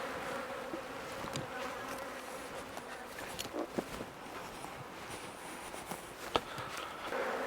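A steady swarm of honeybees hums continuously at close range while a nuc is moved into a hive, a dense even drone with occasional louder passes as individual bees fly near.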